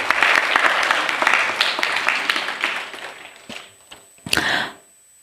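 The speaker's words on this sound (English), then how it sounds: "let's give a big round of applause to Guru Srimati Saavitri Ramanand" Audience at a Bharatanatyam arangetram applauding loudly and steadily, fading after about four seconds, followed by a brief final burst of clapping.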